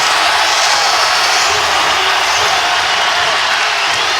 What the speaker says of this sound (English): the crowd has come alive at the Siegel Center in Richmond